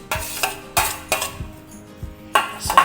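Chopped cabbage tipped into a bowl of filling mixture, landing as several soft, irregular thumps with clattering scrapes of a utensil against the bowl, close and clear with no talking.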